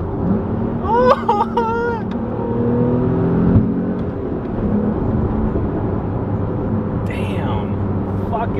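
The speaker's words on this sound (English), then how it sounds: "Active rev matching downshift" Inside a Porsche 911 Carrera T, the engine rumbles and whirs through an automatic rev-matching downshift, with a brief blip rising mid-way while excited people talk over it.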